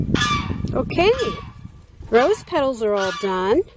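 Geese honk loudly in a rapid series of nasal, rising calls close by outdoors, alternating with a person talking over and between the honks.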